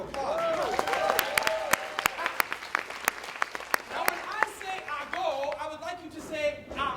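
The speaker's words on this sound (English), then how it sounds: "Give him a big round of applause." Audience applause at a TEDxYouth event in Buffalo, a loud crowd clapping with sharp individual claps standing out, while a voice speaks over it and cheers rise toward the end.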